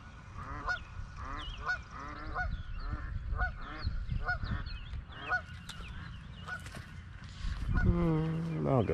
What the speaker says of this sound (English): Ducks and geese are a little loud and obnoxious this morning